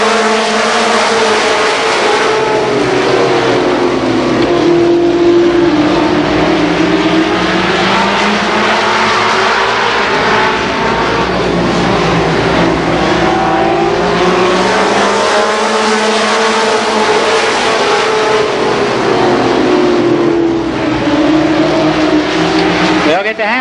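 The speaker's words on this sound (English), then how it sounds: "They'll get the halfway signal the next time by as Dan Eves tries to make his way around Ron Freebus" Stock cars race at Columbus Motor Speedway in 1990, with loud engines roaring continuously and rising and falling as they circle the oval, while an announcer calls the race over the engine noise.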